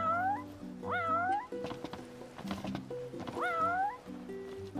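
In the Final Fantasy XV video game, a cat meows three times with rising, drawn-out cries, set over steady tonal game music at moderate volume.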